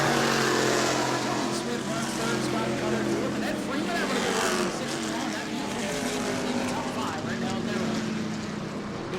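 Stock car engines roar in a dense, steady drone at a New Smyrna Hoosier Series race, loud and continuous as cars run together, with an announcer talking over the noise.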